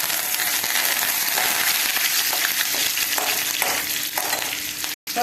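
Curry leaves hit hot oil in a pan for a radish and bean dal stew, producing a loud, dense, continuous sizzle and crackle that fills the whole stretch without any talk.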